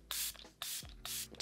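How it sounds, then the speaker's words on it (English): Three short hissing bursts of makeup setting spray misted onto a face, evenly spaced and close to the ear, with quiet pauses between them. "I'm just going to put on a bit of setting spray"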